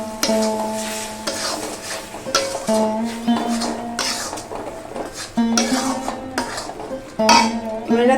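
A pot of ginger, garlic, green chili, cashew and nut paste being stirred, the spoon scraping and clinking against the metal in repeated strokes with ringing tones between them.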